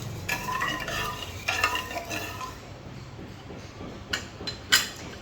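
A spoon scrapes and stirs rice and sugar in a pot for kheer, with scraping strokes in short bursts, a few sharper clinks against the metal near the end, and a low simmering hiss beneath.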